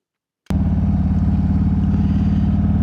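A motorcycle engine running steadily on a December ride, a loud, close, even throbbing drone that starts abruptly and holds constant with no voices.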